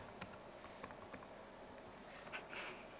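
Fingers typing a password on a computer keyboard during a sign-in, quick irregular key clicks at close range with no talking.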